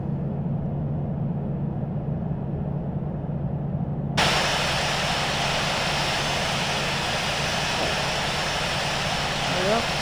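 Jet airliner engines spooling up to takeoff throttle in the Infinite Flight simulator on departure from LAX: a steady low engine drone that jumps to a loud, broad roar partway through and holds there, with a voice speaking over it.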